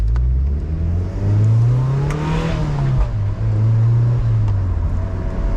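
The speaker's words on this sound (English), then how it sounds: "There's a little bit of a burble with the header as this thing is broken in. You can hear some exhaust pops." A Mazda Miata NC with a header, clutch and light flywheel burbles loudly at low revs, rising and falling, with a few sharp exhaust pops crackling through the steady rumble.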